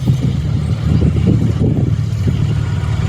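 A Cold War tank engine, such as a Challenger 1 or T-72, rumbles loudly and continuously nearby at a tank display, a deep churning drone with no voices over it.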